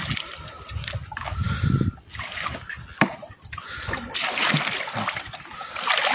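A winter flathead catfish thrashes in a creek, sending up loud, repeated splashes and sloshing water in close bursts throughout, with brief quieter gaps between the surges.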